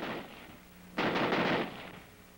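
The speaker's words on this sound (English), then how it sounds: "the rifle will continue to fire as long as the trigger is held back" A Browning automatic rifle fires a short full-automatic burst of rapid shots, loud and sharp against a quiet background.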